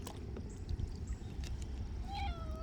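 A pet cat aboard a kayak on the water gives a short, faint meow near the end over a constant background of wind and water noise.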